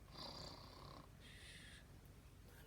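A storyteller imitates Goldilocks' gentle little snore: two soft, breathy hissing snores, each about half a second long and separated by a short pause, quiet and close, followed by a brief louder bump at the very end.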